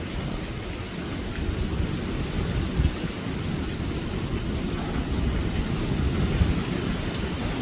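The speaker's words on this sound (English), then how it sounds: "the storm when it finally start to hit over here" Hurricane Melissa lashes Jamaica with heavy rain and wind, a loud unbroken roar of downpour and gusts with low rumbling under it, steady for the whole stretch and without voices.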